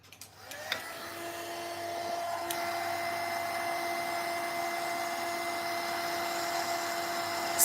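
A hair dryer blows steadily on wet acrylic paint layered with mica powder and metallic flakes, a close, continuous whirring hum that starts after a short click and holds at an even level with no talk.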